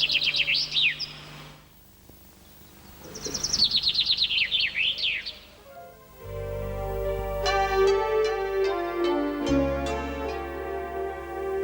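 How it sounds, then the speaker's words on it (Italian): Chaffinches sing beside the Livenza river near a poplar grove, two bright trilling phrases close by, before a loud layer of sustained tones and sharp clicking takes over the second half. "dal canto di alcuni fringuelli che ne hanno preso possesso"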